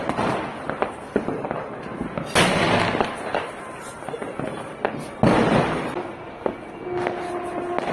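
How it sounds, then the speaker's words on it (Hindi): Diwali firecrackers going off outdoors, a series of sharp loud bangs and crackling bursts at irregular intervals, a few close and strong with fainter pops between, and a short tonal whistle near the end. "तो इस तरीके से मैंने बहुत सारे ये वाले पटाखे दगाए, बिना पॉल्यूशन वाले"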